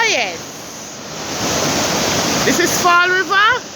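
Fall River at Mount Charles, Jamaica, a steady loud broadband rush of water that fills the whole stretch. Warbling bird-like whistles briefly cut through at the start and near the end.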